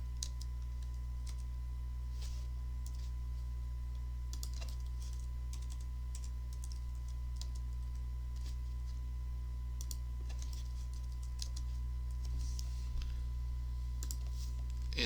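Quiet, steady typing on a computer keyboard, soft irregular key clicks coming in short bursts over a constant low hum.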